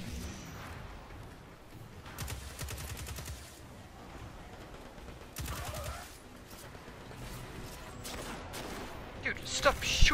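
Gunfire in the video game Destiny 2, played on PC: bursts of rapid shots and sharp cracks recurring through the stretch, loudest near the end, with voices talking in between.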